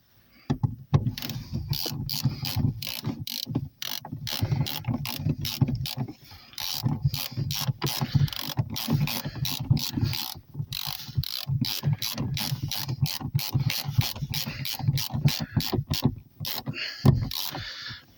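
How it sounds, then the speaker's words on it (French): Seat rail mechanism of a Peugeot 306 driver's seat being adjusted, a dense run of rapid ratcheting clicks and metallic clatter close by, continuing almost without pause, with brief gaps and a sharper rattle near the end. "Comme ça on peut avancer le siège."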